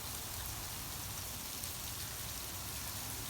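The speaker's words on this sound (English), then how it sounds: "Hailing ASMR. It's hailing in Canada." Hail pelting down outdoors in Canada on an early April day, a steady dense patter of small icy strikes at close range, filling the scene evenly with no voices.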